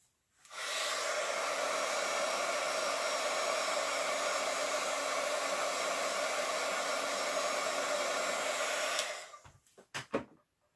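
A heat tool blasts a steady, loud, close whoosh of air for about eight seconds while melting embossing powder on a stamped card, then cuts off, leaving a few faint clicks.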